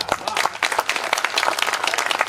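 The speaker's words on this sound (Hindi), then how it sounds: "कविता बड़ी है लेकिन तालियां थोड़ा कम आई है" Right after a Hindi poem is recited on stage, the audience breaks into close, lively applause, a dense burst of many hands clapping without a break and with no voices over it.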